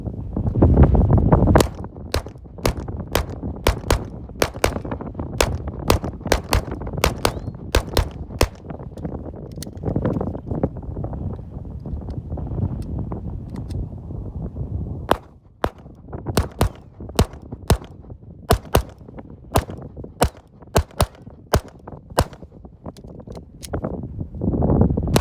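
Strong outdoor wind buffets the microphone in continuous low rumbling gusts, with a run of sharp gunshots from a Glock 19 MOS handgun crackling over it, loud and close.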